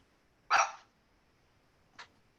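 A fully grown small dog gives one sharp, close bark, then a much fainter short yip a moment later in an otherwise quiet room.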